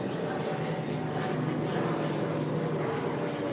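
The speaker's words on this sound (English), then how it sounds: "there's an airport around, so I'll hear planes all day" An airplane passes over near an airport, a steady, broad engine roar that holds at the same level from start to finish, with no voices.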